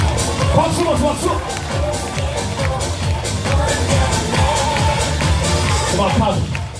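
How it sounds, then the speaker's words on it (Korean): A crowd at a school alumni sports day dance contest claps and cheers, a dense steady wash of applause and hubbub with voices mixed in throughout. "박수."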